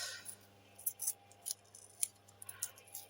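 Scissors snip repeatedly, a series of crisp, sharp cuts spaced unevenly against a faint background hum.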